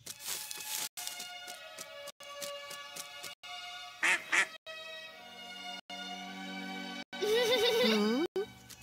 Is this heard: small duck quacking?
yes